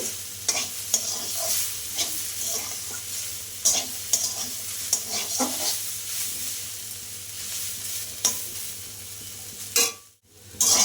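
Kalmi greens (water spinach) with turmeric being stirred as they fry in a pan, with a steady close sizzle broken by repeated scraping strokes of a spoon, and no talk.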